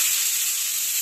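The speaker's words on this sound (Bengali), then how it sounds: "সিটি হয়ে গেছে, এবার আমি বন্ধ করে দিলাম" A pressure cooker cooking mutton curry lets off a loud, steady jet of steam, a continuous hiss with no break.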